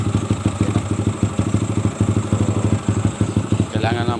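A motorcycle engine, restarted after a battery fix, idles close by with a steady, rapid, even pulsing thump, and someone speaks briefly near the end.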